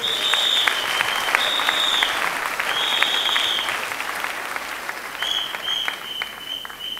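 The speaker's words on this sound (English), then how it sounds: "Give Jesus a clap offering." Church congregation giving a sustained clap offering during a sermon, continuous applause with whistle-like tones rising over it at intervals.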